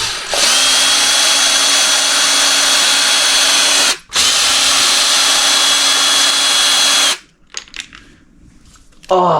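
A cordless power drill undoes screws on a servo mount, a loud close whine held for about seven seconds with one brief break, then stopping, followed by light rattles and clicks of parts.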